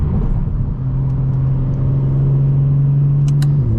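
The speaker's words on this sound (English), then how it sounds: "I love this exhaust" A 900bhp BMW M4 Competition with an aftermarket exhaust drones from inside the cabin, a loud, steady low rumble with a sustained hum that holds, then drops near the end.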